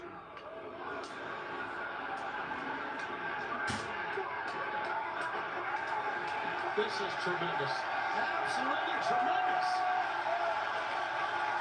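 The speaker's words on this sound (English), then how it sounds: "listen to some of that crowd" A wrestling crowd roars steadily throughout a live match, a dense, continuous wash of cheering with scattered sharp shouts, while a commentator talks excitedly over it.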